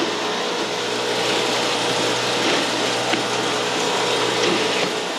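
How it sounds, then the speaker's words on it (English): An old egg grading machine, handed down through the family, runs with a continuous dense mechanical clatter and whir. A few sharper clicks stand out from the steady rattle. "we're grading eggs"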